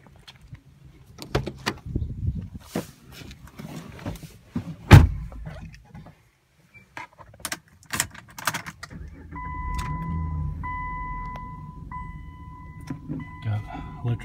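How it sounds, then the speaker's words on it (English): Engine of a 2010 Jeep Liberty Limited cranking over and settling into a steady idle, preceded by door clunks, key rattles and clicks, with a person talking nearby. "I'll crank it up so you can hear it."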